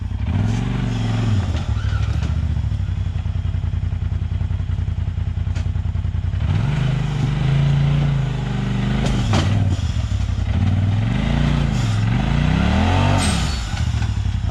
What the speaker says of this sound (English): he's not listening to me, he's just gassing it